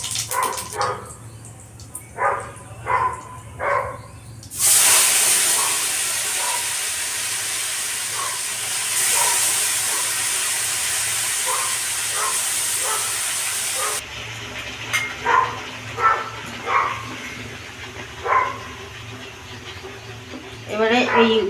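White cumin seeds dropped into smoking hot oil set off a loud, sustained hiss lasting several seconds, with a person talking before and after it.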